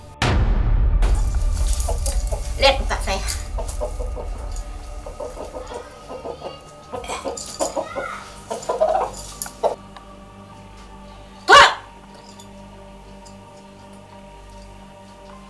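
A chicken clucks during a shaman's ritual demonstration, with several clucks and calls scattered over the span amid low room noise and a brief sharp burst near the end.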